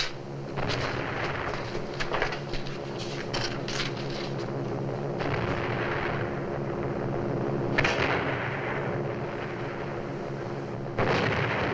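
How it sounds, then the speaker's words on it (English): Gunfire and explosions sound outside during an air raid on Shanghai, a series of dull booms and sharp bursts scattered irregularly over a continuous low rumble, muffled and at a distance. "There's shooting outside. Terrible explosions."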